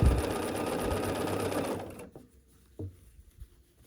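Sewing machine stitching a quilt block seam, a steady fast whir of needle strokes for about two seconds that stops abruptly, followed by a few soft fabric-handling thumps in near quiet.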